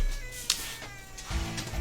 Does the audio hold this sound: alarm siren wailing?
no